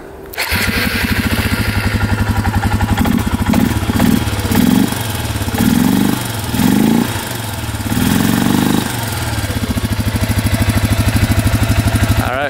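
A beat-up 4x4 ATV engine running loud and close, a rough rapid putter that revs up and down in several surges before settling back to a steady idle.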